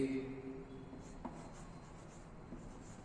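A pen writes an example sentence by hand, soft scratchy strokes close by and quiet, with a faint low hum in the room.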